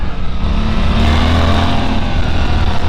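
A 2023 Suzuki GSX-8S motorcycle engine runs loud and close, its throttle held steady with a low, even drone and a slight rise in pitch midway, with no talk.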